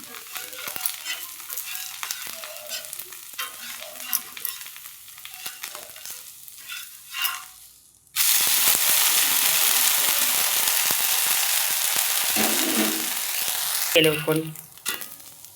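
A millet carrot dosa cooking on a griddle, a soft crackling fry with scattered clicks, then a loud steady sizzle after it is flipped, with a brief scrape near the end.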